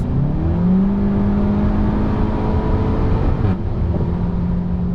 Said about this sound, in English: It's just hammer on the gas and it goes.